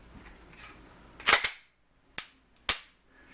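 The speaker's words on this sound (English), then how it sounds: "It has a really good audible reset" An FN FNS 9 pistol's trigger gives a few sharp, close metallic clicks: a double snap near the start, then two separate crisp clicks in otherwise quiet surroundings.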